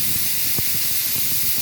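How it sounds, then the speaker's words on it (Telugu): Steam hisses continuously from a pressure cooker's whistle vent, a loud, steady, close rush of spray with no break. "4 విజిల్స్ వచ్చేసినాయి ఫ్రెండ్స్"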